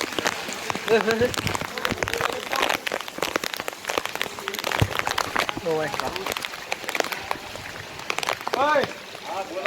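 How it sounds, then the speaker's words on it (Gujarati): Heavy monsoon rain pours down in the Girnar hills, a dense, close hiss of drops beating on surfaces beneath excited voices talking throughout. "વરસાદ જોરદાર પડે ભાઈ"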